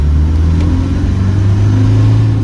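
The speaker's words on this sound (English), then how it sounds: "Nice quiet motor. This thing is running as it should." The 300Tdi diesel engine of a 1998 Land Rover Defender 110 runs at a steady idle, a loud, close, even low rumble with no other sounds.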